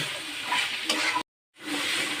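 Boiled hog plums and fried prawns stir-fried in a pan for a Bengali mustard dish, giving a steady close sizzle with scraping spatula strokes, cut by a brief silent gap before the frying resumes.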